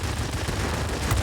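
Two 40 mm wing cannons on a British plane fire in an aerial dogfight in World of Warplanes, a loud dense rumbling burst that holds for the whole brief moment.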